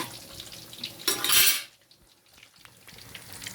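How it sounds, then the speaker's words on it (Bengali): Paneer egg roll chips drop into hot oil, setting off a brief loud burst of sizzling deep frying that quickly fades to a quiet bubbling under faint kitchen clatter. "পনির এগরো চিপস শুনে তেলে ছাড়লাম"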